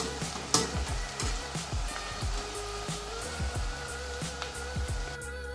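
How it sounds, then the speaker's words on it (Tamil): Chickpeas fry in hot oil for a chilli channa fry, giving a close, continuous sizzle and crackle with repeated rhythmic stirring scrapes and clinks in the pan and no talking. "நான் 2 தடவையும் 2 ஃபுல்லாக எல்லா சன்னாவையும் பொறிச்சு எடுத்துக்கிட்டேன்"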